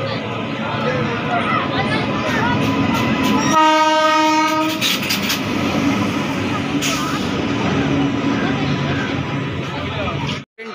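The 13189 Sealdah–Balurghat Express rolls into platform 4 at Malda Town station, wheels rumbling loudly throughout, with a long multi-tone horn blast in the middle and people talking over the din.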